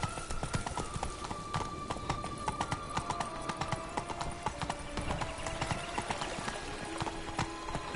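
A horse gallops in the video game The Witcher 3, hooves clip-clopping in a fast steady rhythm with faint game ambience behind.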